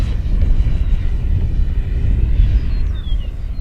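A Flightline 1600mm Corsair electric RC model airplane on a 6S 6000mAh lipo flies an inverted downwind pass, its motor droning loud and steady with a rising, sliding whine near the end.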